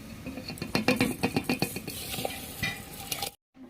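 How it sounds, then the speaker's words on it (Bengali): Gobindobhog rice parboiling in a pot is stirred gently with a metal spatula, giving a run of quick close scraping clinks over a soft simmering bubble before cutting to silence. "হালকা করে খুন্তি নাড়ব"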